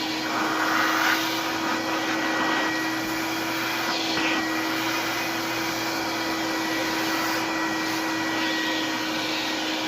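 A vintage canister vacuum cleaner hums and roars nonstop, its motor whine holding steady while the suction hiss shifts slightly.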